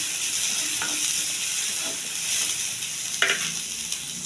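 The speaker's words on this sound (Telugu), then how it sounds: "ఈ పెట్టుకున్న శనగపప్పు, ఇది కూడా దీంతో పాటు వేగాలి." Chana dal frying in a pan, a steady, fairly loud sizzle with occasional scrapes of stirring and a sharper clink near the end.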